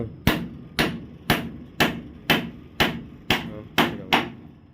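A hammer drives nails with nine sharp, evenly spaced blows about half a second apart, each strike loud and close with a short ringing decay.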